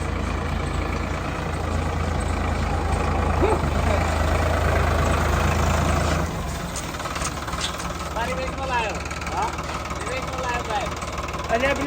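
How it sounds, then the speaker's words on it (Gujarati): A tractor engine idles with a steady low rumble for about six seconds, then drops away, leaving quieter background noise with voices talking. "ટ્રેક્ટર લઈને આવી ગયા છે"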